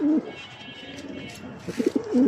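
A Beauty pigeon coos in low, throaty bursts at the start and end, close by, with a faint hum between.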